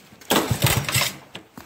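A cold Honda ATC 110 three-wheeler engine cranked on choke, a short burst of loud mechanical turning and sputtering that fails to catch, then a brief second attempt.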